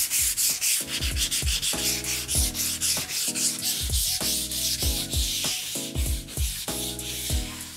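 A wooden door is hand sanded with 220 grit abrasive, rhythmic back-and-forth rasping strokes repeating steadily and close up, alone with no talk.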